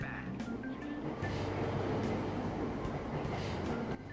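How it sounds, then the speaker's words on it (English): A subway train in Persona 5 Royal rumbles steadily at close range, with rhythmic clacks from the carriages and a low, continuous roar that drops away near the end. "Did I get on the train?"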